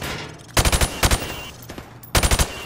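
In Call of Duty: Modern Warfare Remastered, a rifle fires through plywood at targets in two quick bursts of about four or five sharp, loud shots each, separated by a short pause.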